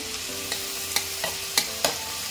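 Finely chopped garlic sizzles and fries in a pan for a burrito bowl, a soft steady hiss punctuated by several sharp scraping taps of a spatula stirring at irregular intervals, close and without talk.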